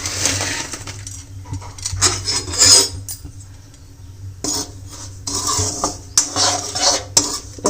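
Semolina being stirred and roasted in a hot kadhai, a metal spoon scraping and clinking against the pan in irregular bursts, with brief quieter gaps between strokes.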